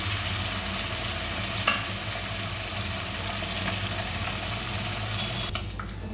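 A hilsa fish head frying in hot oil gives a continuous bright sizzle with crackling spits, and a few sharper clatters as it is stirred in the pan, with no voices.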